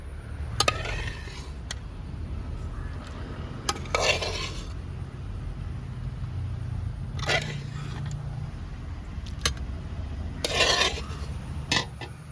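Squid roast is scooped from one pot into another, with occasional metal scrapes and clinks of a spoon against the vessel over a steady low background hum, spaced irregularly and close by.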